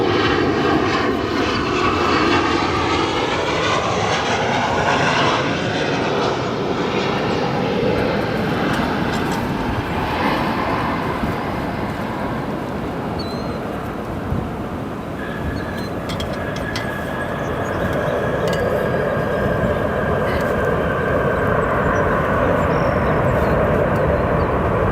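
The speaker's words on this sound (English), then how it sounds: "Nice touchdown for that United 737." United Boeing 737-800 airliner touching down at O'Hare, its engine roar sustained and loud throughout, briefly easing mid-way and then building again with a high whine.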